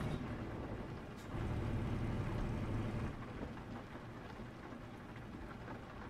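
Steady rain patters in Euro Truck Simulator 2 while a truck drives toward Krakow, a continuous wash that swells slightly before settling back, with no talk.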